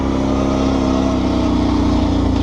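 Kawasaki Brute Force 650 ATV engine running steadily on an off-road park trail, a loud close continuous motor drone with no talking.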